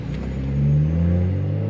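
A stage 2+ tuned BMW M235i revs hard, a loud, close engine note rising and swelling in the middle before holding steady, with deep rumbling harmonics and no talking.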